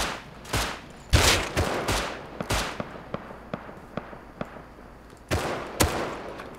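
Video game shootout gunfire: a loud burst of rapid shots, then a run of single cracks spaced a fraction of a second apart, closing with a few more heavy blasts.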